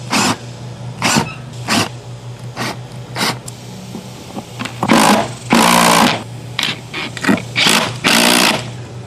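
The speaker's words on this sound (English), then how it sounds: "let's get some lag bolts going." Lag bolts are driven in to mount a UFO-style shop light, heard as a series of short, sharp power-driver bursts of varying length with quiet gaps between them, close and fairly loud.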